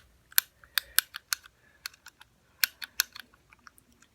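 Buttons on a fidget cube pressed in quick irregular bursts, giving sharp close-up plastic clicks with brief pauses between them.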